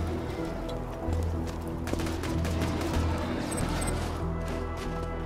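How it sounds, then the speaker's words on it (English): Gunfire while shooting enemies in Borderlands 2, a dense, continuous clatter of rapid shots and impacts over game noise. "Are you busy shooting stuff again?"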